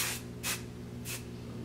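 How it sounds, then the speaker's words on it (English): Dry shampoo sprayed onto the crown of the head from an aerosol can, three short hissing bursts with brief pauses between them, close and clear with no talk. "I'm just gonna spray the dry shampoo"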